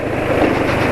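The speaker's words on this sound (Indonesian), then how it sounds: "Jadi kalau dipakai pelan gini sekarang suara mesin ngasar" Car engine running roughly at low speed on synthetic oil, a loud continuous rumbling drone with wind-like noise, close up and steady with no talk.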